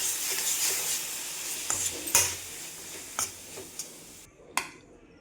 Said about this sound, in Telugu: సో రైస్ వేసి కలుపుకోవడమే.